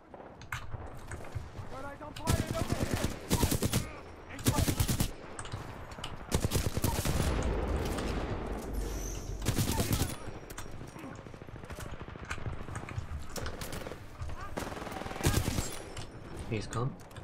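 Rapid bursts of R201 assault rifle fire in a Titanfall 2 match, sharp automatic volleys recurring through the clip under a player's talk.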